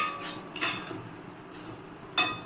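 A spoon scrapes and clinks against a pan while watermelon rind thokku is stirred, giving a few scattered metallic knocks over a quiet background with no talk.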